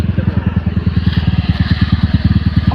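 A tuned motorcycle engine thumps close and loud in a fast, even rhythmic putter that holds steady throughout.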